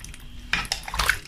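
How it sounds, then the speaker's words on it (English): Stock is poured into a pot of yam porridge, giving a short burst of splashing liquid with a light clink of the pot, near and alone. "Next, I'm going to be adding the stock in there."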